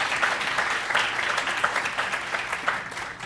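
Audience applause at the 2019 Spike Awards for milestone businesses, a steady round of clapping from a sizable crowd, even and sustained throughout with individual claps blending together.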